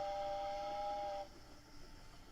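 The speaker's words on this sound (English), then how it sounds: "The last train leaves in just a few minutes." A train whistle sounds at a station as the last train prepares to depart, a steady sustained tone lasting about a second before cutting off, leaving quieter rumbling ambience behind.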